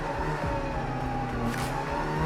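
TCR touring race cars accelerating off the line at the start of a TCR Australia race at Sydney Motorsport Park, a dense, steady roar of several engines with rising revs and passing cars close by.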